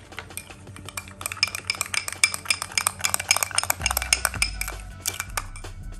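A spoon stirs yogurt, coffee powder and sugar together in a bowl, giving quick, close, bright clinks and scrapes against the bowl that speed up into a busy rhythm, with a low knock near the end.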